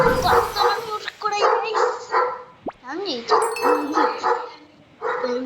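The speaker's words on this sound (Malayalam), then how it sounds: "എൻ്റെ വീടിൻ്റെ സൈഡിൽ നായ ഉണ്ട്, അതുകൊണ്ടാണ്" A dog beside a house gives a run of close, repeated barks mixed with high yips and whimpers in an irregular rhythm, with short pauses between bursts.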